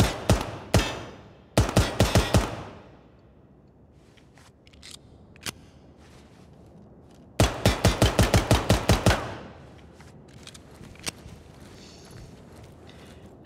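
Makarov pistol fired in the tactical shooter game Ground Branch: a few single shots, then two rapid strings of sharp, loud reports with ringing decay and scattered lone shots, with no talking.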